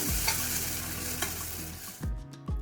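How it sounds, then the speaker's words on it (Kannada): Sizzling masala and curry leaves frying in a pan, with stirring scrapes and a couple of sharp spatula knocks near the end, close and continuous. "ಕರಿಬೇವಿನ ಸೊಪ್ಪು ಎಲ್ಲ ಹಾಕ್ಕೊಂಡ್ಬಿಟ್ಟು ಇದನ್ನು ಚೆನ್ನಾಗಿ ಫ್ರೈ ಮಾಡ್ಕೋಬೇಕು"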